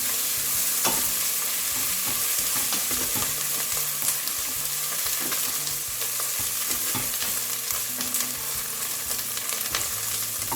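Chicken tehari with ginger being stirred in a frying pan, a steady sizzle with repeated scraping strokes of the spoon throughout, close and continuous with no talking.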